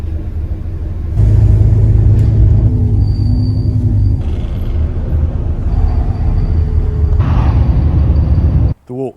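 Steady low engine rumble inside a bus on a long city ride in Bristol, continuous and fairly loud throughout, with a brief dropout near the end.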